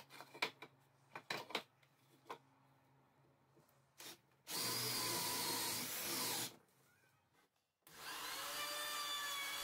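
A 15mm Forstner bit bores holes in wood for copper pipe, two sustained loud drilling bursts of roughly two seconds each, preceded by light knocks and handling of the workpiece.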